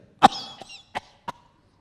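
A single sharp cough followed by two shorter, softer coughs, close and isolated in a quiet room.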